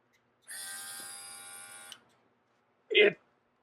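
A portable battery-powered Casubaris airbrush kit compressor, held in the hand, runs with a steady electric buzz for about one and a half seconds and then stops; a brief, separate short sound follows a moment later.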